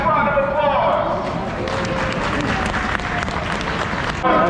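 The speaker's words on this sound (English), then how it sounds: "If you guys are excited about this restock, go ahead and give me a nice round of applause" A crowd lined up for an Amazon liquidation bin store restock applauds and cheers, a loud continuous clatter of clapping mixed with voices filling the space throughout.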